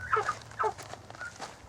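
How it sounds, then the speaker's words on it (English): Turkeys in a cage give short gobbling and clucking calls, two louder bursts followed by fainter chatter, fairly close with no voices. "All right, so I've already got my turkeys in this cage."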